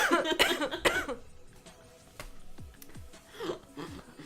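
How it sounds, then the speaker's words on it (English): Several harsh coughs burst out close by in the first second, followed by quieter throat sounds and shuffling. "I hate that I keep coughing."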